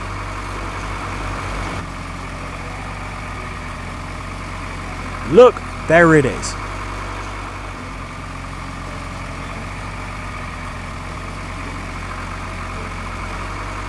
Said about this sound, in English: Oh, it's a tractor driving in the field.